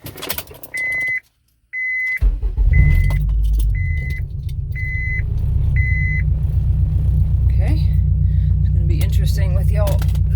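A 2003 Honda Civic starting up after a blue gauge cluster swap, with a row of regular dash chimes or beeps first, then a steady low engine rumble that holds through the rest, with a brief voice near the end.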